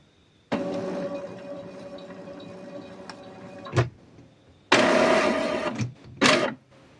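An Epson inkjet printer running a printhead cleaning cycle whirs steadily for a few seconds, stops with a click, then starts up again in louder mechanical bursts.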